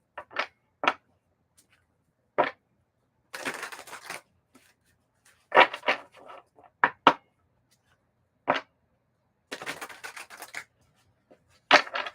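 Several short bursts of crisp riffling and rustling, spaced irregularly with quiet gaps between, close and moderately loud, like a deck of cards being shuffled.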